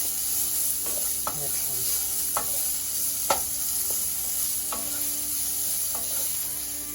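Stir-frying on a high flame for a spaghetti dish produces a constant bright sizzle. Sharp spatula clacks against the pan come at irregular intervals, and a voice speaks briefly.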